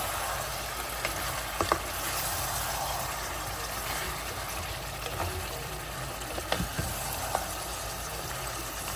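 Mutton kadai cooks in a pan with a steady, close sizzle and bubbling, broken by a few faint clicks of stirring, with no talking.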